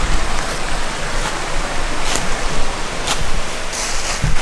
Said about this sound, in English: Little waterfall down there as well.